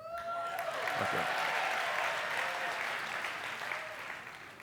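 An audience applauds in a church gathering, a loud, steady wash of clapping that swells early and holds for several seconds before slowly thinning out.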